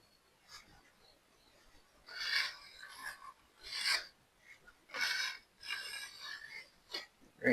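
Drywall joint compound spread in a thin coat with a knife over an existing patch, giving close, repeated scraping and rasping strokes in an irregular rhythm, with no talk.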